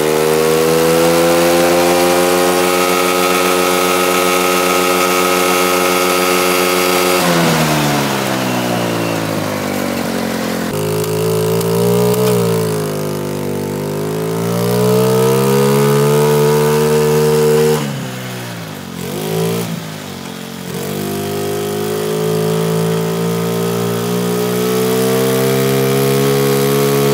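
A Honda Civic fitted with a turbocharged moped engine runs loud and close, droning and buzzing with several rises and dips in revs, and no talk over it.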